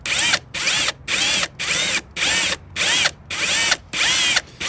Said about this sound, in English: I am going to start to drill through the bumper in a nice straight fashion